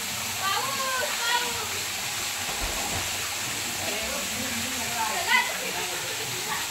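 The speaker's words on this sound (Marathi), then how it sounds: "बघा काय फायनली हा धबधबा चालू केलाय." A waterfall pours steadily, its rushing, hissing roar filling the scene evenly and close by, with voices faintly talking over it now and then.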